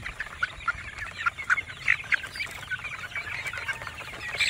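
Straight-comb dome gamefowl and Alabama black chickens clucking nearby in a yard, with scattered soft clucks and calls over a quiet background and no talking.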